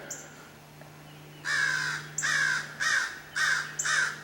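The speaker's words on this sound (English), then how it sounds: "and then there's that goddamn crow again" A crow caws near a house with a garden and magnolia tree, four or five loud, harsh calls arriving in an irregular series after a short quiet stretch, over a steady low hum.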